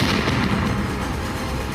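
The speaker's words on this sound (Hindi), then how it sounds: "और उसमें तेज धमाका होता है।" A car explodes at a red light on Netaji Subhash Marg beside the Red Fort in Delhi, caught on CCTV: a sustained, loud, rumbling blast roar fills the whole moment with no speech.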